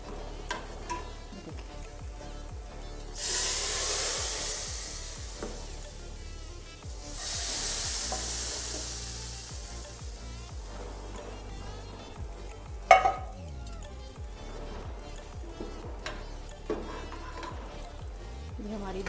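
Ground garam masala tadka in hot oil for dal, producing two loud bursts of sizzling hiss over a background of kitchen clatter and stirring, with a sharp clank partway through.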